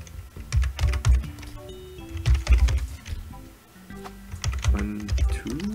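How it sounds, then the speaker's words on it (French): Rapid keyboard typing on a computer during a Frog Fractions game, bursts of clattering keystrokes in quick uneven runs, close and fairly loud, with background game music and sound effects underneath. "C'est là que je suis content de connaître ma méthode de clavier pour taper"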